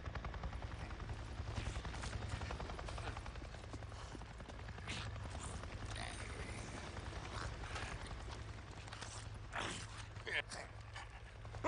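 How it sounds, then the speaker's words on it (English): Enemy Nero helicopter in Days Gone passes overhead, a steady low rotor thrum running throughout beneath game sound effects and scattered clicks and thumps. "A Nero chopper! It just buzzed right over me and acted like I wasn't even there."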